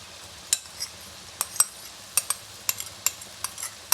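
Yogurt being stirred into boneless beef masala in a pan, heard as sharp spoon clinks against the pot at an irregular pace over a faint sizzle, close by with no talk.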